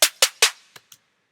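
A shortened snare drum sample hits three times at an even, quick pace with a tight, clipped decay, followed by two fainter, softer hits, alone in a chilled-out beat.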